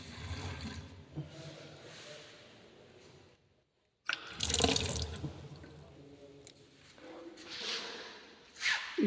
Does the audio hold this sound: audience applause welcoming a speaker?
no